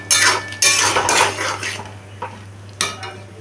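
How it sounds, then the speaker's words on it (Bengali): A spatula stirs spices being sautéed in a metal pan for a Bengali chana potol dish, making loud, close scraping strokes against the pan over a light sizzle, with several separate strokes and clinks. "এরকমভাবে মশলাগুলোকে আমি ভালো করে কষিয়ে নেব যতক্ষণ এটার"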